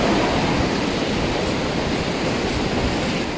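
Waves wash along the shoreline at Sitio Talisay in Cataingan, Masbate, in a steady, loud rushing hiss that stays broad and continuous, with no voices.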